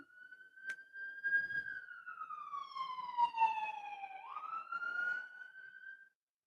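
An ambulance siren on the road outside wails in one long, smooth rise and fall, sliding down then back up over several seconds, moderately loud and alone before cutting off.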